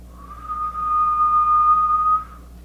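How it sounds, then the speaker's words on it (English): A woman whistles one steady, clear note held for about two seconds, close and alone, with a soft rise at the start and an abrupt stop. "Can you whistle?"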